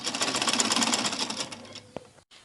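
Sewing machine stitching shirred, smocked fabric for a gown, a fast close rattle of stitches that stops abruptly, followed by a couple of small clicks.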